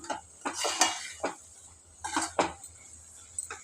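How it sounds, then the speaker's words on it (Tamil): Sweet coconut filling is stirred in a heavy-bottomed pan, with close scraping strokes of a spoon against metal arriving in two clusters of quick swipes separated by brief pauses, over a faint sizzle. "தேங்காயோட பச்சை வாசனை போகிற வரைக்கும் இதை நல்லா கிளறணுங்க"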